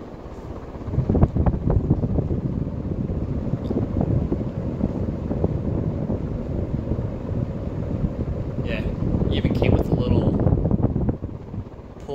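An antique GE top-mount ceiling fan runs steadily with a powerful, even whooshing hum throughout, close to the microphone, while a person talks over it.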